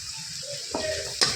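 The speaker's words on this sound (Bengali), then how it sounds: "তারপরে মশলাটা ভালোভাবে কষিয়ে নিলাম" Homemade ground spices such as coriander, turmeric and cumin frying in a pan, a soft sizzle with a few light stirring scrapes and a sharp utensil clink near the end, close and fairly quiet.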